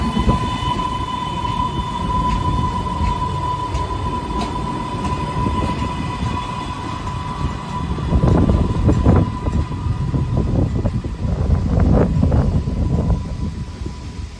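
A GP40MC locomotive in blue livery rolls past on a Boston-area line, a steady loud rumble with a sustained tonal whine, growing heavier and more thunderous in the second half as the cars go by.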